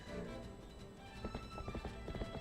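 Horse hooves clip-clopping at a run in The Legend of Zelda: Twilight Princess HD, a quick rhythmic galloping beat that grows louder and denser toward the end over game background sound.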